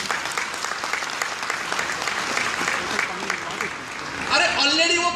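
An audience at a motivational business event gives a loud, sustained round of applause that fills the room, fading slightly before a speaker's voice returns near the end.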